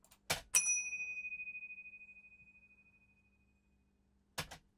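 A single bell strike rings out clearly, its bright tone sustaining and slowly decaying over several seconds, with a few sharp clunks before it and another knock at the end; no talking.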